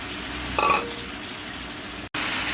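Cauliflower and peas frying in a pan for a fish curry, a constant close sizzle with one brief metallic clink near the start and a short cut-out toward the end.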